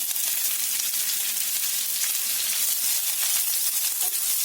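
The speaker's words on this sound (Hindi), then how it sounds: "2 मिनट के लिए मीडियम फ्लेम पर प्याज को हमने भून लिया है।" Sliced onions fry on a medium flame in a pan, giving a steady, close hiss of sizzling oil with faint crackles and pops running throughout, and no talking.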